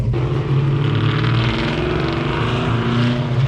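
A small-block Ford coupe fitted with Holley Sniper EFI idles alongside a second car, a loud, steady low rumble of V8 engines running close by with no break.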